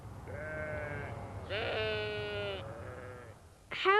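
Sheep bleating in a few drawn-out calls, one after another, fairly close over a low steady background, with a sharper bleat cutting in at the very end.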